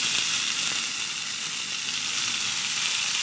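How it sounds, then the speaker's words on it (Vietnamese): Oyster mushrooms stir-frying with fried shallots in a hot pan for a sa tế dish give a loud, continuous, close sizzle with an even hiss throughout. "Bây giờ cái gốc hành của mình giờ nó thơm rồi đó các bạn, mình sẽ cho nấm vào."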